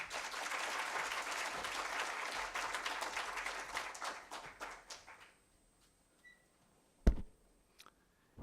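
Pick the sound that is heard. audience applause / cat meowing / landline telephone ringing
audience applause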